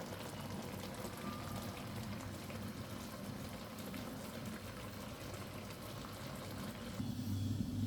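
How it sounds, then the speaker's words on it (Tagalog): A pot of ginataang gulay, coconut-milk vegetable stew with canned tuna, simmering on the stove, giving a soft, continuous bubbling hiss that stays faint and even throughout. "Kumukulo na siya."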